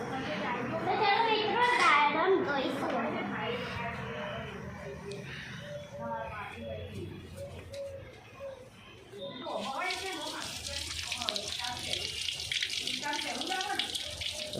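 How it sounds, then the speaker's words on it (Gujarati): A tap runs steadily while pomegranates are washed at a sink. The water grows louder and more hissing in the second half, and adults and children talk over it. "દાડમ ધોઈ જશે."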